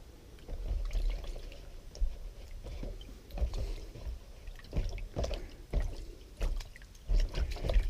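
Tomato seeds are rinsed and agitated in water, giving close, irregular sloshing, swishing and splashing in uneven bursts with no talking.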